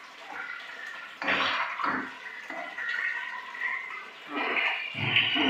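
Water runs and splashes in bursts as rice is washed by hand in a kitchen, sloshing and pouring steadily with louder surges, close and moderately loud, no talk.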